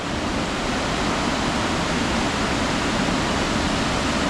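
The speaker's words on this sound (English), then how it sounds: "Isn't the waterfall so pretty?" Steady broadband roar of a waterfall reached on a forest hiking trail, loud and constant throughout with no break or talk.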